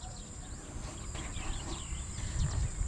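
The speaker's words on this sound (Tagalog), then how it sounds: "Puro huni lang po ng ibon." Faint birdsong chirps and trills over a quiet early-morning farm field, with a steady high hiss running throughout.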